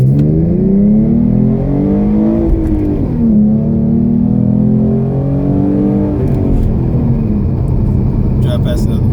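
Car driving and accelerating on back roads with a steady, loud engine drone whose pitch climbs and falls through gear changes. Someone talks over the continuous road rumble.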